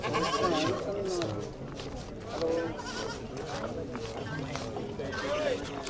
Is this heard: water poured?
no